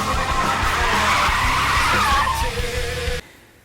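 Tires of a Dodge Challenger R/T with a 5.7 Hemi spin and squeal loudly and continuously, the engine roaring beneath the screech, before the sound cuts off abruptly near the end.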